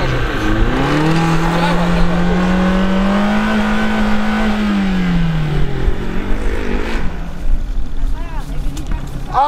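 Opel Astra on a gravel pit revs hard, engine pitch climbing and holding high before falling away, with rough gritty noise beneath and voices talking in the background.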